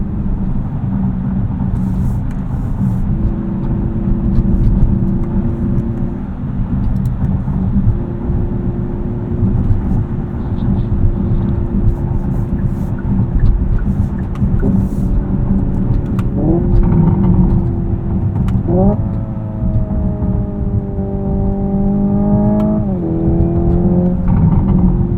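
Hyundai Ioniq 5 N electric car accelerating with synthetic N active engine sound, steady rumble with rising revving tones and simulated gear shifts, loud and close inside the cabin with no talk.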